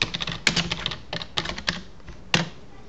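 A message is typed on a computer keyboard as a close run of crisp, uneven key clicks, with a few sharper strokes and short gaps.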